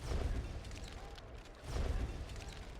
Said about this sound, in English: More explosions.